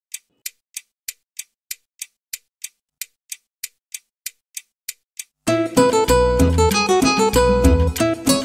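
A round silver clock ticks in a steady, crisp rhythm of about a dozen evenly spaced ticks, heard alone against silence before a full band of music comes in and covers it.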